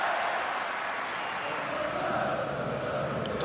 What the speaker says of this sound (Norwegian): Nå har Lerkendal-publikummet virkelig fått mye å juble for de siste minuttene.